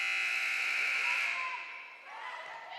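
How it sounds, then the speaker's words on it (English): A timer buzzer at a high school JV volleyball game sounds a long, loud, steady electronic drone that holds for about two seconds and then cuts off, leaving gym noise behind. "Buzzer sounded. They forgot to turn off the timer during the timeout."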